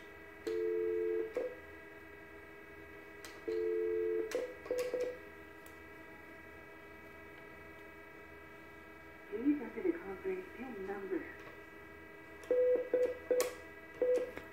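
A desk phone on an office PBX conference line gives paired steady beeps, short keypad tones and clicks, then a brief prompt-like voice passage, followed by more quick beeps.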